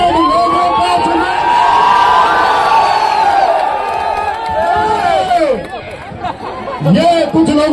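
A large crowd cheers and whoops at a UP Police honour ceremony, a loud, sustained roar of many voices with shouts rising and falling, and talk mixed in toward the end.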